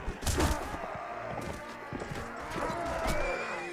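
Horse hooves galloping in the medieval combat game Mount & Blade Warband, a brisk clip-clop rhythm over busy battle noise, fairly close, with occasional voices mixed in.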